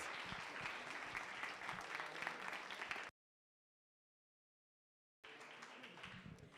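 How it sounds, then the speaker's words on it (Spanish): Applause from an audience at the close of a school talk on the sea and the economy, a dense steady clapping that runs about three seconds, cuts to silence, then resumes just as full. "un aplauso para todos y muchas felicidades"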